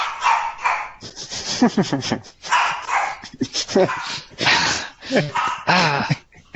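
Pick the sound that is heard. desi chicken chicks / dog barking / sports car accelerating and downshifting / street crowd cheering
dog barking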